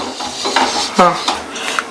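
Oil is brushed onto a griddle pan for dosa, giving light scraping and soft clinks of the brush against the metal, close and fairly loud with a brief voice in the background.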